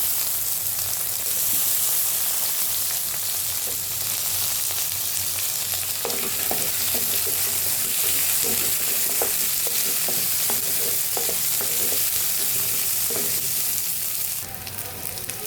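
Drumstick curry with minapa vadiyalu fries in a pan with a constant, dense sizzle. Repeated light stirring clicks and scrapes start partway through. No one talks.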